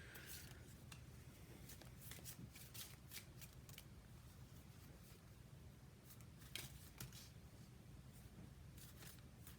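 Tarot cards are shuffled continuously in a steady rustling, flicking rhythm, close and moderately loud, with occasional sharper riffles and no talk.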